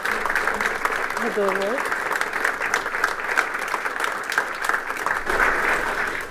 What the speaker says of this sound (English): So if we could please give him a round of applause.